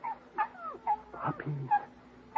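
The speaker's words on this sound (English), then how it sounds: "Puppies, Dollar. Yes, sir. 6 of them." A litter of six newborn puppies whimpering and squeaking in a hiding spot, thin high yips and whines overlapping in an irregular close-up chorus with no talking.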